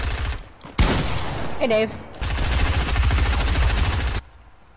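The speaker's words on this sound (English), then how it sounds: "that was an all-out SMG brawl right there" Dense, continuous SMG fire during a close-range Fortnite brawl on the Shipment map, loud rattling bursts filling most of the clip, with players talking briefly over the gunfire.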